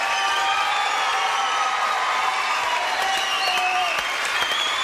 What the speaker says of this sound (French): Applaudissements pour Monsieur Lafont encore,